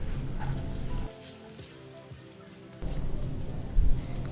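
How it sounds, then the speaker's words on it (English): Carrots and green pepper fry in oil in a pan, producing a steady, close hissing sizzle that dips briefly in the middle before swelling back up. "on the same pan add some more oil and start to cook carrots and green pepper"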